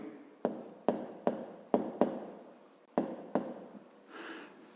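A pen scratches across paper while a fifth-grade maths exercise is worked out, a series of about eight sharp strokes, each fading quickly, with no talk.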